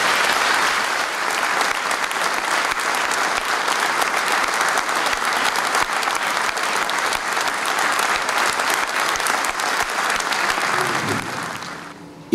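A large audience applauds a friend during the opening ceremony of a national tourism congress in Chile, steady dense clapping that holds for about eleven seconds before fading out at the end.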